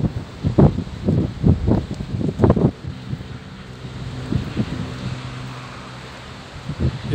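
Wind buffets the microphone in gusts, loud low rumbles at first, then a steadier, softer blowing, at a motorway parking area in the Rhône Valley.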